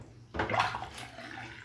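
Water pours from a tap over Sega Mega Drive console parts being washed, starting abruptly after a brief quiet moment and running steadily and close.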